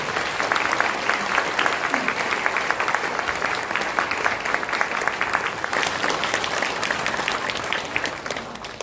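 Steady, dense applause from a church congregation at an ordination and installation ceremony, continuous clapping filling the whole stretch at even loudness with no talk over it.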